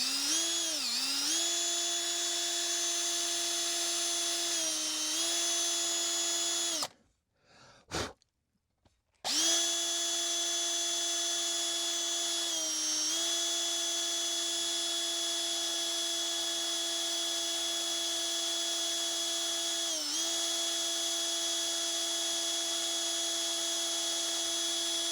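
A power drill driving through a small plastic insert, a steady high whine held for several seconds, then a short pause and another long sustained whirr, close and loud with no talking.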